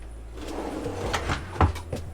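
A long drawer in a vintage Airstream trailer kitchen slides open with a low rolling rumble that ends in a bump, close and fairly quiet, with no talking.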